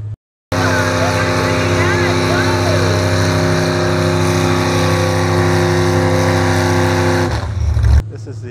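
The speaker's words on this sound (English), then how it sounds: "so not the super big trucks, but they still make a lot of noise." Small block division trucks rev their engines at a small-town summer truck pull, a loud, steady, close mechanical roar with sharp harmonic drone that runs for several seconds before cutting off abruptly.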